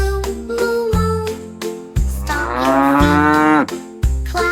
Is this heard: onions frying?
no